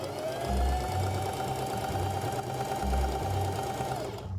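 A sewing machine stitches French seam pockets on a dress, running in steady bursts with brief pauses. Its close, even motor hum carries a rhythmic needle clatter.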